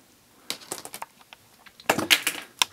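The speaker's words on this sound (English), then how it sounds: "I'll just go ahead and cut one of those off." Short, sharp snips and clicks as a section of tubing is cut off for a Gunpla kit, a few scattered cuts followed by a denser cluster of crisp cracks.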